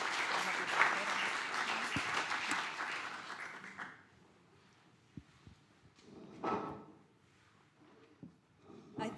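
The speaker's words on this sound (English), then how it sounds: "Can I get a round of applause for Ihab, please?" Audience applause at an event on inclusive learning for students, a loud burst of clapping for about four seconds that cuts off abruptly, leaving a quiet room with scattered knocks and a faint voice.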